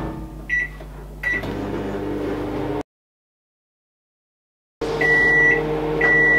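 A microwave oven at full power hums steadily, beeps a few times, falls silent for a couple of seconds, then hums again with more beeps, heard close with no talk.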